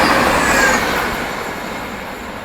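The Patna Kota Express passes at Phaphund railway station, a loud close rushing roar of rolling wheels and carriages with faint high squeals, gradually easing off.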